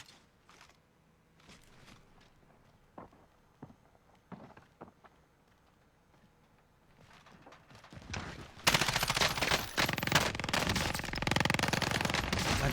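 Gunfire in the Warzone battle royale video game: scattered distant shots and clicks at first, then a sudden loud, dense burst of rapid automatic fire that keeps going to the end.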